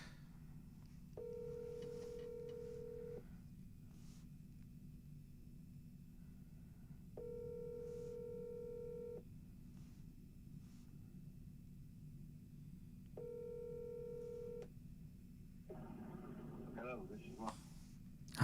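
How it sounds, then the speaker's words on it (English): Three long outgoing ringback tones sound evenly spaced on a phone call to someone, faint over a low hiss, followed by a burst of muffled noise at the end. "I'm going to try to call Ron one more time"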